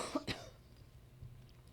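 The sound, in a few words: coughing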